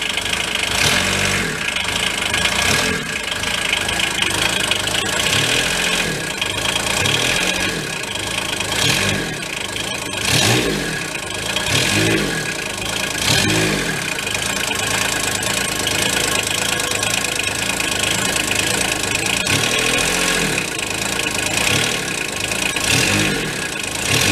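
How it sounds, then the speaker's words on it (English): A Bobcat UTV engine with a freshly rebuilt cheap transmission runs steadily and is revved throughout, a loud, continuous mechanical roar with rhythmic knocking pulses and repeated swells in pitch, with no voices. "We'll rev it up."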